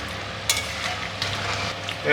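A pot of dal gets stirred after roasted cumin powder goes in, giving a few soft scrapes and clinks over a low simmering hiss, with someone speaking faintly nearby.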